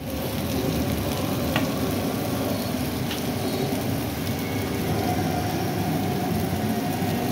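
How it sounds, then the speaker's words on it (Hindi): Potatoes stir-frying in butter with black pepper and salt give a loud, dense, continuous sizzle with a few faint utensil taps, close up and without talk. "तो इनको हल्का सा जो है ना मैं स्टर फ्राई करूँगी पोटैटोज"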